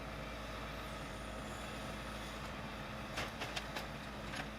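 A garbage collection truck idles with a steady low engine rumble at a waste sorting centre, a few short hissing bursts rising near the end.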